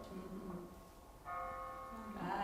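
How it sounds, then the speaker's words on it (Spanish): A church bell tolls as a dramatic background to a Christian sermon, with sustained ringing tones that swell midway, heard faintly under a low voice. "Con ese fondo de campana sonoro dramático."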